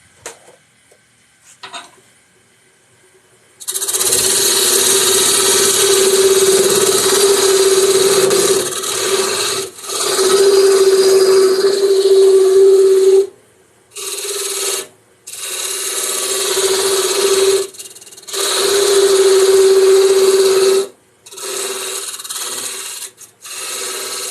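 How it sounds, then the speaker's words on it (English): A wood lathe turns a tenon on a lidded box as the tool bites into the spinning wood, giving a loud, close scraping whir in several long bursts separated by short pauses. "I'm going to turn this tenon"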